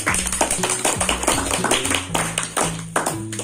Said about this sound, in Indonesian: Kita tepuk tangan dulu Pak buat ini.